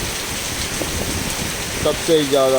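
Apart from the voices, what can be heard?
heavy downpour of rain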